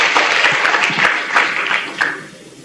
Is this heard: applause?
yes